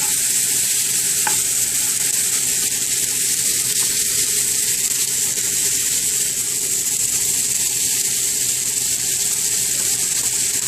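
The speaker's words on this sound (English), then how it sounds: "You just want to cook it until the peas soften up and it soaks up the butter." Carrots and peas frying in butter in a pan for an Asian-style ground beef dish, with a loud, dense and unbroken hiss of sizzling that stays close and steady throughout with no voices.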